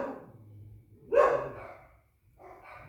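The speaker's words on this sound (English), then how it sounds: "my dogs are barking out here." Dogs barking outdoors at a home, a short burst of barks in the middle rising over a quiet background, with a fainter bark-like sound near the end.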